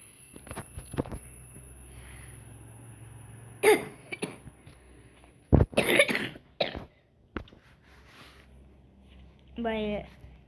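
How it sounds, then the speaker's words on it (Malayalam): A few separate coughs and throat clearing from a person, close and sudden, scattered between quiet stretches, with a short bit of voice near the end. "ചെറിയൊരു ചുമയുള്ളൂ ഗൈസ്."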